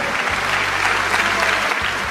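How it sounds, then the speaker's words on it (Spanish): A large church congregation applauding at an evangelical service, dense steady clapping filling the space for a couple of seconds, close and loud with no break. "Dele un aplauso al Señor Jesucristo."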